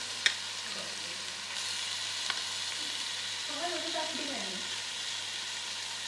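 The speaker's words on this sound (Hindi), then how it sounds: "अब प्याज का कलर चेंज हो गया है तो इसमें मैं डालूंगी अदरक लहसुन का पेस्ट 1 टेबल स्पून भर के," Ginger garlic paste frying with browned onions in a pan, a quiet continuous sizzle with a few faint stirring knocks and a brief background voice.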